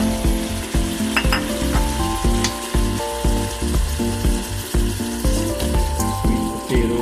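Chopped carrot sizzles loudly in a hot pan with garlic and celery for a sweet potato and broccoli soup, crackling steadily over a rhythmic stirring scrape, with no talk.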